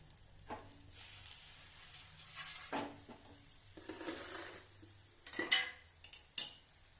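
Wheat dosa cooking on a hot pan just after flipping, with soft sizzling broken by several sharp scrapes and clinks of a metal spatula against the pan, close and moderately loud, no talking.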